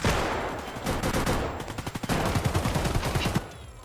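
Gunfire from a weapon in the game Escape from Tarkov, rapid repeated shots in bursts across the whole stretch, loud and close with no talking.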